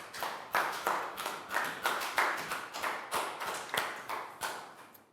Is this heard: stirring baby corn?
no